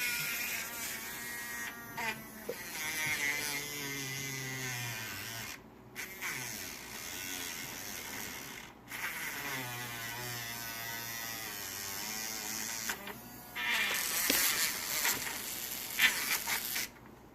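A small 3-volt electric motor overdriven on 12 volts whines and buzzes at high speed, its pitch rising and falling as it cuts out and restarts several times, with short gaps of near silence between runs.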